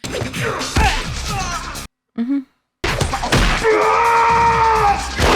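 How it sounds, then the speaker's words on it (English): Loud, harsh screams fill a fight scene in the film Blade, mixed with whooshing blows and crashing impacts, broken by a short near-silent gap before the screaming and struggle resume. "I love the screams."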